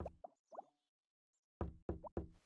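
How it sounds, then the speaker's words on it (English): Knocking on a door in a video game comes in two short sets, a quick run of three faint raps followed after a pause by three louder, sharper knocks, with no talking over them. "knocking on my door"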